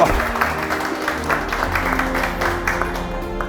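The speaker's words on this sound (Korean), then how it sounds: "박수, 박수, 박수." Applause greets the top sales award winner at a Suwon import car dealership ceremony, a broad crowd clapping that holds steady and moderately loud from start to finish.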